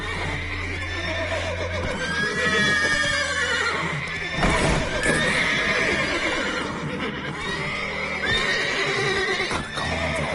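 Horses neigh and whinny repeatedly in a video game, with clip-clopping hooves underneath, loud and close throughout; a brief spoken line is heard.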